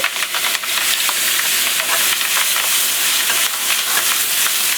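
Cabbage sizzles and hisses loudly in a very hot wok, with steady stirring and scraping throughout and no voices.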